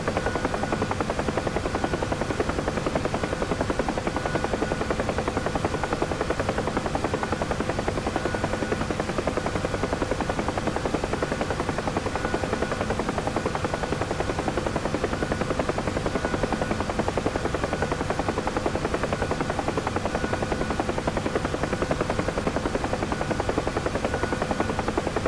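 A single-engine, two-blade UH-1H Huey helicopter in the DCS flight simulator drones steadily in flight, its loud rotor and turbine noise continuous and unchanging throughout.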